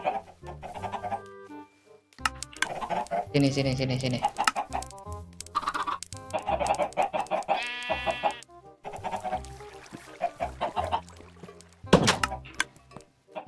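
Chickens cluck in a Minecraft Comes Alive world while someone talks over them, the fowl noises coming in short bursts between his words across the whole stretch.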